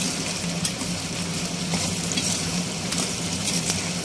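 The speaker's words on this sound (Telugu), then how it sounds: "వీటితో పాటు ఉల్లిగడ్డ ఇవన్నీ వేగుతాయి" Onions and bitter gourd (boda kakarakaya) fry together in a pan for a curry, giving a steady, even sizzle with occasional faint stirring ticks and no pauses.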